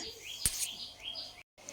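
Newly hatched chicks give thin, high chirps in quick bursts, close by and moderately loud, with a brief sharp noise partway through and no talking.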